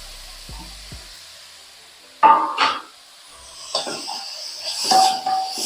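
Carrots and onion lightly sautéed in a pan hiss and sizzle in loud bursts, with quieter gaps and a few low knocks at the start, all without talk.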